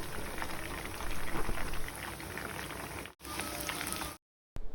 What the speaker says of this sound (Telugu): ఈ చికెన్ పీసెస్ అన్నీ ఒక 8 మినిట్స్ అలాగా బాగా డీప్ ఫ్రై చేసుకోవాలి, గోల్డెన్ బ్రౌన్ కలర్ వచ్చే వరకు.